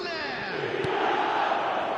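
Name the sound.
football stadium crowd in a video game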